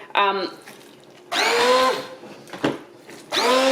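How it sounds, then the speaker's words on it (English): A stick blender pureeing cooked pumpkin whirs in two loud bursts, separated by a quieter pause, after a brief moment of voice at the start. "I'm just going to use my stick blender"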